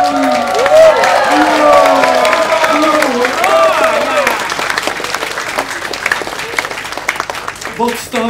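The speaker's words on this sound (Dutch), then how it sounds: "Ik sta te klappen." Crowd clapping at a Nivon Pentecost camp gathering runs throughout. The clapping is dense and fairly loud, with prominent voices talking and singing over it.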